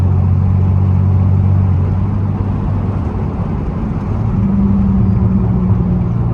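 A muffler-deleted Pontiac Grand Prix GT without a tune idles and burbles while driving, making a loud, deep, rumbling exhaust drone that stays close and continuous with slight shifts in pitch.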